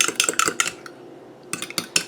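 Eggs seasoned with seasoning salt being scrambled in a pan, heard as quick clattering bursts of utensil against metal, close and fairly loud, pausing briefly before another run of scraping taps.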